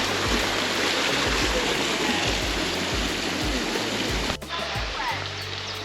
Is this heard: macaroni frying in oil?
no